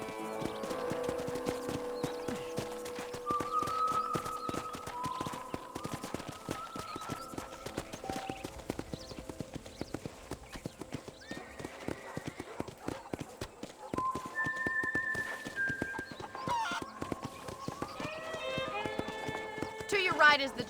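Hooves of a horse being ridden in the video game Red Dead Redemption, a steady clip-clop gait running throughout with occasional snorts, under game music and intermittent speech.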